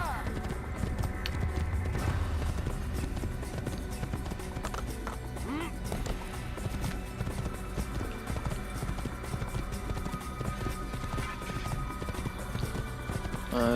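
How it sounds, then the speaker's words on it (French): A horse gallops in Assassin's Creed with a steady run of hoof clip-clops and an occasional whinny, set under game music and ambience while someone talks over it. "encore un passage long et ennuyant à cheval"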